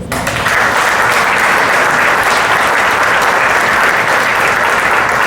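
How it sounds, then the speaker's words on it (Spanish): Dense, steady applause from a conference audience closing a talk on document management in public institutions, loud and sustained throughout with no voices on top. "dándole de nueva cuenta un fuerte aplauso"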